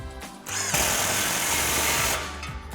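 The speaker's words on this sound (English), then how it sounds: "Grab our impact 15mm socket, tighten this down." An impact wrench with a 15mm socket tightens an exhaust clamp on an F-150 dual exhaust system, giving one close, loud burst of rapid hammering lasting about a second and a half between short clicks.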